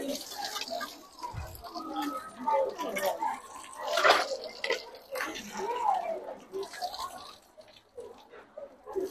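Water pours and splashes in uneven bursts as someone washes, with soft drips and sloshing throughout, partly under people talking nearby.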